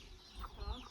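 Chickens cluck softly in a short burst, being fed in a rural village yard, with low background rumble.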